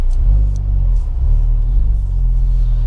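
A 2023 Honda Civic FL5 Type R with a quiet stock exhaust drones low while driving, a steady deep rumble inside the car that swells slightly now and then, with no talking.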